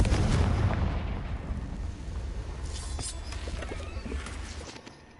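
A Confringo fire-blast spell from Hogwarts Legacy booms loudly with a deep, rumbling explosion that rolls on and slowly fades over several seconds, with crackling debris in the tail and no talk.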